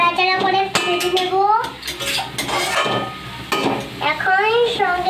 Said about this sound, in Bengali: এখন নাড়াচাড়া করে ভেজে নেব।